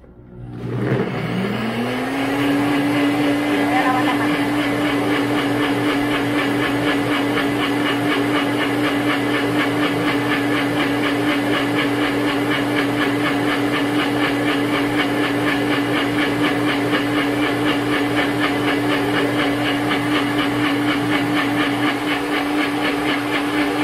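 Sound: blender blending an almond butter drink

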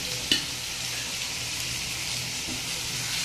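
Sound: bottle gourd leaf fritters frying in oil

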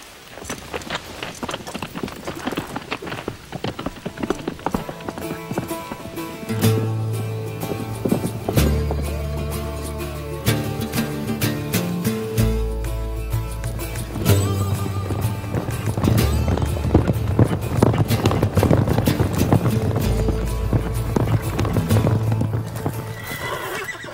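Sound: horses hooves clip-clopping

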